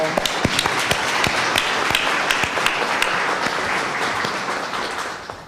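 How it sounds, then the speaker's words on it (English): An audience at a municipal candidates forum applauds after the first half, a sustained full burst of many hands clapping with some sharper nearby claps standing out, fading slightly at the end. "Let's everyone give them a round of applause."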